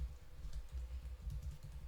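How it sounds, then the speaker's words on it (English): Soft, rapid keystrokes on a computer keyboard patter in an irregular rhythm, faint and close, with low background hum and no talking. "That noise you hear is me typing on my keyboard."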